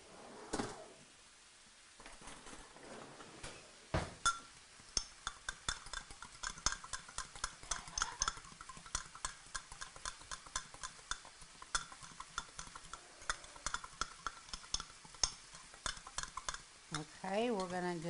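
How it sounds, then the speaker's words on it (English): Spoon scraping and clinking through corned beef brisket braised in dark beer in a pot, a steady run of close, irregular stirring knocks and scrapes with light sizzle underneath. "Let me stir this up."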